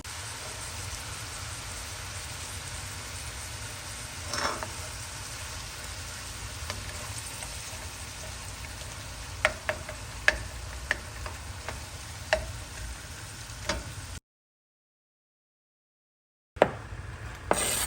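Ground round browning in a skillet with onion and broccoli, a steady close sizzle and crackle with occasional stirring scrapes and pops, continuous before dropping to a brief silence near the end, no talking.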